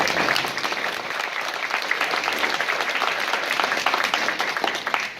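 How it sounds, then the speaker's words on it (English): Sustained, dense applause from the audience at a Dominican College social work pinning ceremony for the class of 2017, many hands clapping steadily and fairly close throughout. "How about another hand of applause for our students?"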